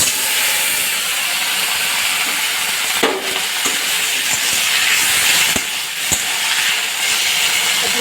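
Okra (bhindi) frying in a pan gives a loud, constant hissing sizzle like escaping steam, with a few faint spatula clicks scattered through it and no one speaking.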